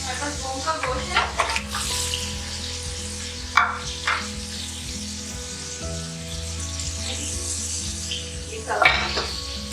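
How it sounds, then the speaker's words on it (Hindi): Beef shank meat sizzles steadily as it fries in a pot, a continuous hiss with a few clinks and stirring scrapes, close and fairly loud, with a voice faintly underneath. "फ्राई करेंगे।"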